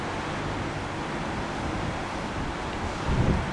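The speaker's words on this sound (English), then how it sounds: "That's that little bit of a wind gust we're getting from the east." Wind blusters steadily across the microphone at an airport spotting location, with a broad rushing noise, rising into a stronger easterly gust near the end.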